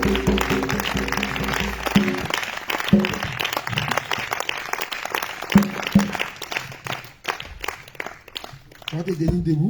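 A congregation at a prayer meeting claps and cheers for the Lord, sustained dense applause with sharp accents over a steady crowd roar, with a voice and music heard alongside.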